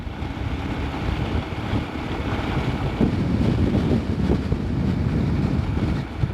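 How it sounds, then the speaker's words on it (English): Strong wind buffets the microphone on the Newfoundland coast, a loud, continuous roar with gusty low rumbles that swell slightly toward the end, no voices present. "Extremely windy."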